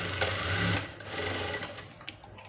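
A sewing machine runs steadily as it stitches a blouse, a close whirring hum that changes pitch slightly partway through and carries on alone for the rest of the clip.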